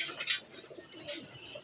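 A racing pigeon, a former MMFC race bird now kept as a breeder, coos softly in a loft, with a few faint murmuring calls spread across the moment amid quiet background.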